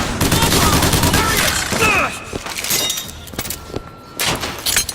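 Rapid gunfire in the video game BioShock Infinite: a dense, loud volley of shots fills the first two seconds, then thinner scattered bangs and thuds follow amid game noise.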